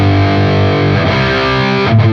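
A heavily distorted electric guitar plays a fast down-picked metal riff in the style of an album version, a dense, continuous chugging that is loud and close with no voices.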